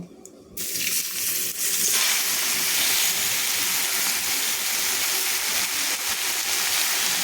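Chopped bottle gourd added to a pan of fried spices including bay leaves, hitting the hot oil with a sudden loud sizzle that settles into steady, even hissing.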